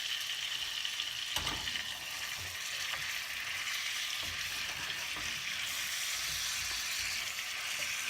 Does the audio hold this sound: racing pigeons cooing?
no